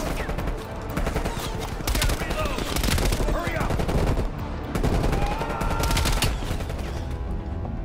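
Gunfire in Call of Duty: Black Ops Cold War, loud bursts of automatic shots and heavy single cracks in rapid clusters over a dense game soundscape, with a voice talking briefly among them.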